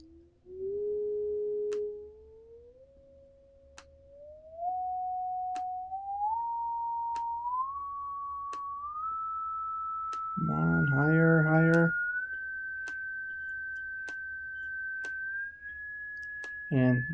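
A pure electronic sine tone generated in Pure Data climbs in steady stepwise increments from low, around 100 hertz, to high, with faint regular clicks at each step and a brief burst of speech partway through.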